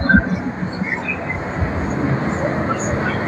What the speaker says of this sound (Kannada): ನೋಡಿ ಟ್ರೈನ್ ಬಂತು